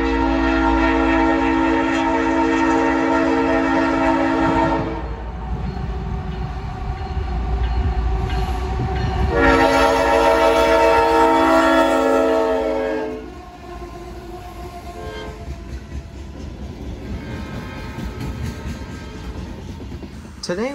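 CSX freight train Q442 passing Vitus Junction, loud sustained multi-tone horn blasts sounding twice over a heavy rumble of rolling cars, then the horn stops and the steady roar of the passing train continues.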